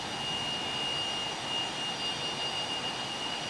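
A T-37 Tweet jet in Flight Simulator taxis with a steady, high whining engine drone and a constant roar that holds evenly throughout.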